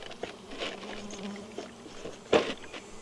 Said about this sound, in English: you're going to notice bees are going to start gathering right on the lip already